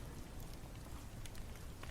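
Rain falls steadily on a ruined shelter with a caved-in roof and half its walls missing, a soft even patter with faint scattered drops.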